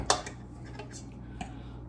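Food is stirred in a pan or bowl while cooking, a few light clinking and scraping taps of a utensil, one sharp click at the start and sparse softer ones after, quiet and close.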